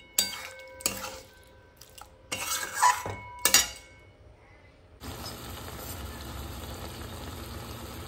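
Pointed gourd (potol) frying in a pan is stirred with a metal utensil, clattering and scraping in several loud bursts, then settles into a steady hiss of frying with no talking.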